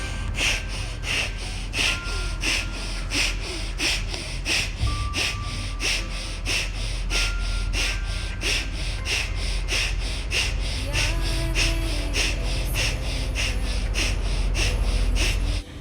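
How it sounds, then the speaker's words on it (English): Rapid forceful breathing exercise in yoga practice: a fast, steady train of sharp nasal exhalations, roughly two per second, continuing loudly and evenly throughout over a low background hum. "Squeeze your stomach, throw all the air out of your lungs."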